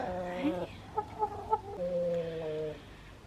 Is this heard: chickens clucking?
yes